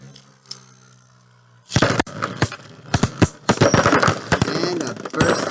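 3D printed Beyblade tops crash repeatedly in a plastic stadium, a burst of sharp rapid clacks and rattles after a quiet start, loud and close, with the spinning battle continuing in irregular bursts.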